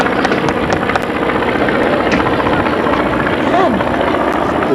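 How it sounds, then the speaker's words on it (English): Ryan PT-22 warbird radial engines passing at a ship recommissioning ceremony, a continuous rumbling drone that stays fairly loud and steady throughout, with faint crowd noise beneath it. "the sound of these radial engines on these magnificent aircraft"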